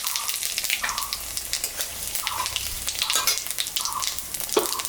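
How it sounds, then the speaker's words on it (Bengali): Dried red chillies and cumin seeds sizzle in oil left from frying fish, topped up with a little fresh oil, making a continuous close crackling hiss with small bubbling bursts throughout. "মাছ ভাজা তেলের উপরে আর একটু তেল আমি দিলাম, শুকনো লঙ্কা জিরা সম্বরা দিলাম।"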